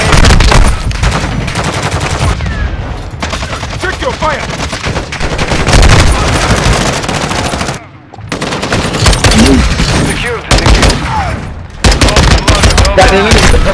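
Rapid automatic gunfire rattles through a Call of Duty: Modern Warfare II match, loud and nearly continuous bursts broken by brief pauses, with voices talking over the shooting.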